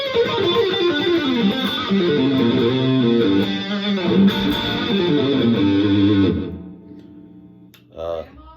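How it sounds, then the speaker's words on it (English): A distorted Fender electric guitar plays chords and melodic runs for about six seconds, then fades out, followed by a brief faint strum. "it sounds great with distortion"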